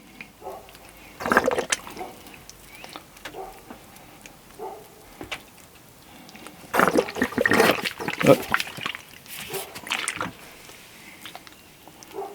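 Water pours onto seed trays for bottom watering, splashing and trickling in irregular bursts, with a few louder pours and gurgles between quieter stretches, close by.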